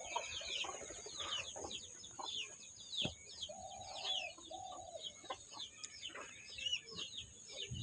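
Chickens cluck and murmur at a rural homestead, soft scattered calls mixed with other bird chirps and a few cooing notes, fairly faint and distant, with no talking.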